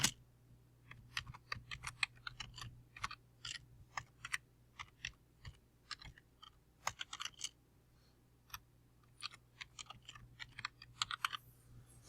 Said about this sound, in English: I'm typing in my name